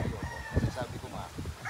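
A gamecock crows in a short burst that stretches over a drawn-out note, close by, while a person talks over it.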